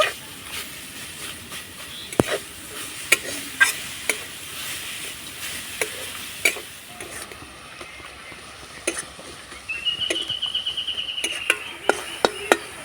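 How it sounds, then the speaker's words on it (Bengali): Grated coconut and jaggery filling is stirred in a pan. Sharp, scattered spatula scrapes ring out over a steady hiss of cooking, and the scraping grows busier toward the end. "তো পুর তৈরি করার জন্য নিয়েছি নারকেল কুড়ানো আর নিয়েছি গুড় এবার আমি নাড়াচাড়া করে পুরটা তৈরি করে নেব"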